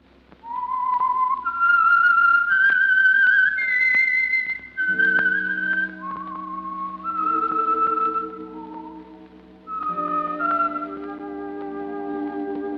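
A lone whistler performs the eerie melodic theme of the radio mystery program The Whistler, a clear sustained tune with a low orchestral backing joining partway through.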